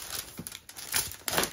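Birthday gift boxes being unwrapped and torn open, with quick bursts of crinkling paper and tearing that come in short, close, uneven rushes.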